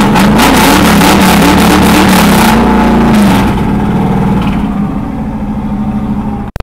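A carbureted American classic car with an added throttle body revs hard, a loud, rough, throbbing engine roar that holds for a few seconds and then settles back toward a lower idle before cutting off.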